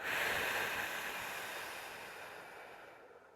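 A single long, close breathy exhale during a side-bend back exercise, strongest at the start and fading slowly, with no talk.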